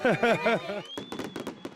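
New Year fireworks burst at midnight over the vineyards of Monbazillac, France, as a rapid series of sharp crackling pops, following a moment of voices.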